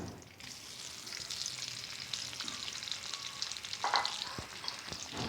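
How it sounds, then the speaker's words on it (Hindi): Boiled beef frying in hot oil for namkeen gosht, a steady crackling sizzle with scraping stirring sounds and a few sharper pops close by, with no voices. "ये मैंने जो गोश्त गला लिया वो मैं इसके अंदर शामिल करके और उसको भून लूँगी"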